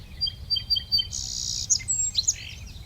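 A sparrow sings a peppy, trilling song of repeated high chirps, then a buzzy sustained note and a few sharper tweets, fairly close and clear over a low steady background rumble with no talking.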